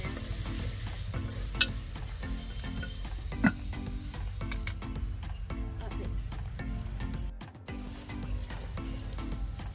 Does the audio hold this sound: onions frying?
yes